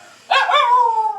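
A dog barks once loudly and close at strangers in a Tamil village, the bark stretching into a drawn-out whining yelp that fades slowly.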